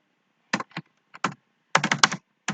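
Computer keyboard typed on while writing C++ code, short bursts of clattering keystrokes separated by pauses, close and fairly loud, with no talk.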